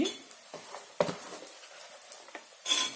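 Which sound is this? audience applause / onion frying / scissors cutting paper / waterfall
onion frying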